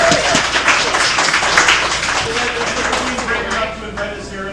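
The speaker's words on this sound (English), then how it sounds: "And can we get a round of applause for Papa Chris?" Moderate audience applause at a spoken word event, a brief burst of clapping that thins out over a few seconds, with background voices mixed in.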